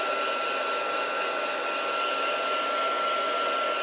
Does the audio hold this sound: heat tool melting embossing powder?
yes